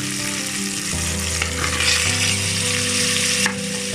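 Tomatoes sauté in ginger garlic paste with a steady close sizzle and occasional stirring, over a constant tonal hum from the stove or kitchen fan, with no one speaking.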